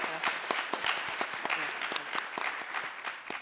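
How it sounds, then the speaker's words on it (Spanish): Sustained applause from a conference audience at a panel with education ministers, dense steady clapping filling the room at moderate distance. "me gustaría que la pudiéramos recibir con un fuerte aplauso"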